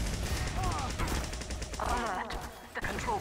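Team Fortress 2 rocket launcher fire in a competitive Ultiduo match, several sharp rocket blasts and impacts mixed with other game effects, with a caster talking over the action.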